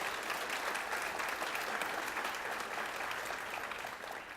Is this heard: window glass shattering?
no